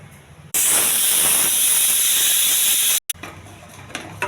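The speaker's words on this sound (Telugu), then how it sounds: "ఒక 4-5 విజిల్స్ రానివ్వాలి." A pressure cooker cooking pongal with brown rice and masoor dal releases a loud continuous steam hiss for about two and a half seconds. It then cuts off, leaving quieter kitchen noise and soft clicks.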